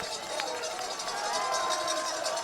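A crowd of spectators at a World Orienteering Championships sprint arena cheers and claps as a runner passes, a continuous bright roar building slightly toward the end, with commentary talk underneath.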